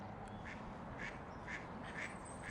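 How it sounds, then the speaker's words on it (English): Small teal ducks quack repeatedly in a regular series of short calls, roughly twice a second, moderately distant over a steady outdoor background hiss. "we do get other ducks dropping in now and again. Like these teal."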